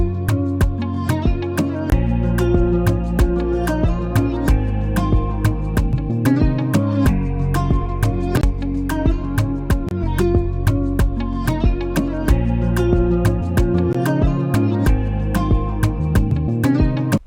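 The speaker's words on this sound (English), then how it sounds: "playing it together with the guitar melody sounds like this" Afrobeats guitar melody produced in FL Studio over a bouncy drum pattern, with steady kick, snare and hi-hat hits driving under a plucked, repeating guitar line at full, even loudness throughout.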